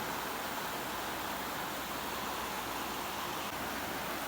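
Steady broadband rush of the Kelani river flowing beneath Ranwala bridge in high water, a continuous even roar heard from close by with no voices.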